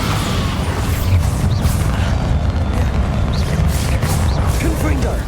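A Bombarda blasting spell goes off in the Hogwarts Legacy video game during a magical duel, a sustained loud rumbling boom with crashing, creaking debris that holds steady for several seconds, while a voice speaks over the action.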